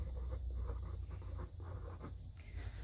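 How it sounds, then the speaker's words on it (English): A pencil scratches a name across a sheet of paper, close and quiet, in short uneven strokes with brief pauses between letters. "put your name at the top using your pencil"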